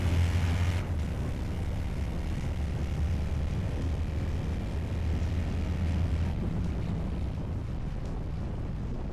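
Harley-Davidson Road King motorcycle cruising at highway speed, a steady low engine drone under heavy, continuous wind rush, loud and close throughout with no talking.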